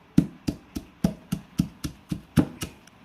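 Ginger, garlic and green chillies are pounded with a stone, giving about ten sharp, evenly spaced thuds in a quick steady rhythm, close and alone with no talk.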